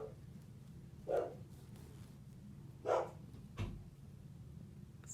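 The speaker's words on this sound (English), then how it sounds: "Sorry about the barking" A dog barks in the background, three short bursts spaced about two seconds apart, each a sharp bark rising above a steady low household hum.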